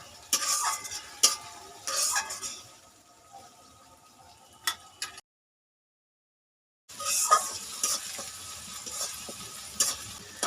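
Spice masala stirred and fried in oil for Bengali aloo dum, with soft sizzling and scraping stir strokes, a pause of silence midway, then stirring resumes close up.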